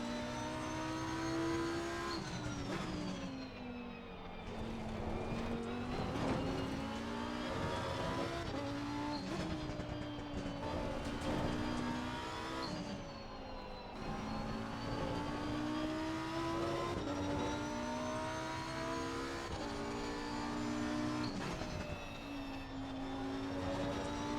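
Race car engine in a driving game, held at high revs with steady harmonic whine that rises and dips through gear changes, loud and continuous throughout with no talking.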